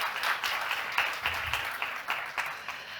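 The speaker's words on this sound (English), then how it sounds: "a big round of applause for Anya for being a great interviewer" Applause from an audience at a public health policy event, a moderate, fairly distant patter of many hands with recurring bursts, steady throughout without clear speech.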